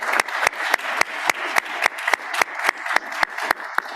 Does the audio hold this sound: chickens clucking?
no